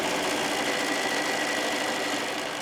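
A sewing machine runs a half-inch seam through fat-quarter cotton for a tote bag, giving a steady, continuous mechanical whir that holds even for the whole stretch with no talking.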